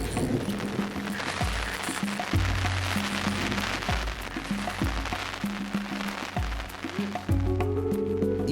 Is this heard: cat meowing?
no